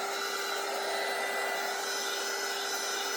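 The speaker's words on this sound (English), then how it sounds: "we're just going to hit the tape with the heat tool again" A loud, steady electric heat tool blows hot air onto tape at close range, an even whooshing hiss with a constant motor whine and no pauses.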